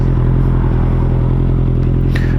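A Honda CBR 650R fitted with a Scorpion full exhaust system roars close and loud, a dense, continuous engine note with rough, rapid pulsing. A brief higher whine cuts in near the end.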